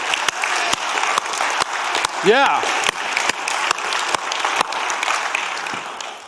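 A church congregation claps during a Sunday worship gathering, steady rapid applause from a full room filling the whole stretch, with a brief shout of approval partway through.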